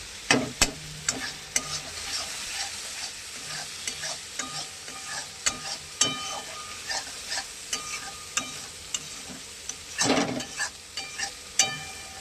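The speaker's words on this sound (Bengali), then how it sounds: "কষাতে থাকছে, কত সুন্দর কালার আসছে দেখুন যত নাড়াচাড়া করবে" Spices with chili powder sauté in a pan under a steady sizzle, while a spatula scrapes and knocks in regular stirring strokes, close and clear, with no talking.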